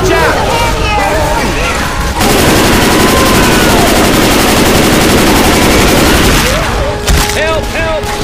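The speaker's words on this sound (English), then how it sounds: "Everyone shoot the tank!" Dense machine-gun and rifle fire aimed at the Tank in the Left 4 Dead 2 zombie shooter, a loud sustained barrage with booms and crashes, with shouted voices before and after.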